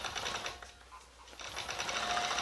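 A longarm quilting machine whirs in a steady stitching run, briefly easing off midway before picking back up, close and clear with no talking.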